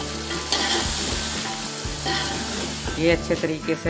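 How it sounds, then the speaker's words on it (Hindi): Ground masala paste of garlic, ginger, green chilies, turmeric and salt frying in a pan, a close steady sizzle with stirring scrapes, while someone speaks Hindi over it. "ये देखिए इस तरह आप फ्राई होंगे, मसाला भून जाएगा"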